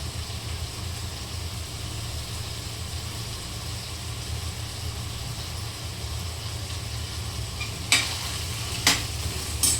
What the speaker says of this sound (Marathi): मग आता पूर्ण भाजी मिक्स करते मी